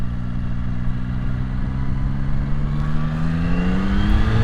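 A 2025 Yamaha R9 sportsbike engine drones loud and close in a steady, smooth tone whose pitch climbs gently as it pulls, with no talking over it.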